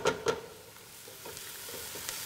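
Vegetables fry in a pot for a three-bean vegetarian chili, giving a soft, steady sizzle with a few sharp stirring clanks at the start and light scraping afterward.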